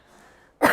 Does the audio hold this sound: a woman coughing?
yes